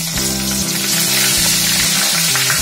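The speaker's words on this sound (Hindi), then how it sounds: "यहाँ दाल के तड़के की तैयारी हो रही है।" Cumin seeds and two bay leaves crackle loudly in hot oil as a tempering for dal, a dense, continuous close sizzle with scattered pops and no speech.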